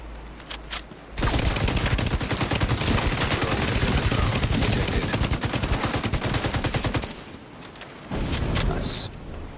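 Sustained automatic gunfire in the shooter game The Division 2, a loud continuous rattle of rapid shots lasting several seconds, then a brief pause and a shorter burst, with a voice talking around it.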